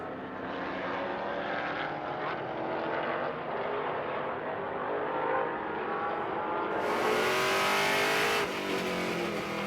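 Trans Am race cars at Laguna Seca roar past in a sustained, loud engine drone that swells and builds as they approach close by, then shifts abruptly as one car passes.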